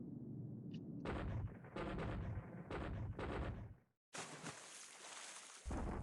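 Torpedo attack in the War in the Pacific naval strategy game: loud game sound effects with booming blasts and bursts of gunfire-like crackle in several back-to-back waves, a brief silence, then a sustained roaring explosion-like rumble.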